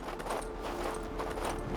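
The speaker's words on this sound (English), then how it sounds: "I picked out the very bestest horse for you." A horse's hooves clip-clop at a steady walking pace in the King's Bounty II video game, as a rider heads out through the cold Highlands, with a continuous low ambient rumble underneath.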